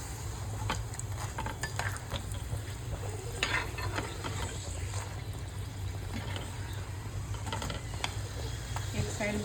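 Bhature fry in hot oil as part of a chole bhature recipe, giving a steady, close bubbling sizzle throughout. Scattered scraping and clinking of a utensil sound against the pan over the frying.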